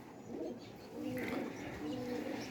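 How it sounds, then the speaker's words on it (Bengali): A green pigeon gives soft, low, repeated coos, several phrases in quick succession, heard close on a cloudy day with faint background noise. "এটা হচ্ছে সবুজ কবুতর"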